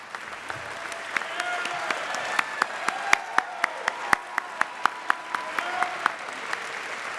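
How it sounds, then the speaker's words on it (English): Audience at a music school commencement applauds standing educators, steady applause with a few sharp individual claps standing out near the microphone, while a voice speaks over it. "You deserve a big round of applause for your excellent work."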